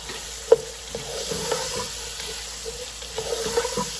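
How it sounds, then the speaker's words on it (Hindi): Vegetables for egg fried rice are stir-fried lightly in a pan, a soft continuous sizzle broken by the scrape and clatter of stirring, close and fairly quiet. "और सब्जियों को हमने बहुत ज़्यादा नहीं पकाना, बस हल्का हल्का ही इसको फ्राई करना है"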